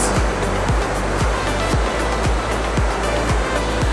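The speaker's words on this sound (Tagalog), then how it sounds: "Ang sarap ng sound ng tubig, guys." Water flowing at a waterfall in Wulai, Taiwan, a steady broadband rush of falling water, with low thudding pulses at a regular pace underneath.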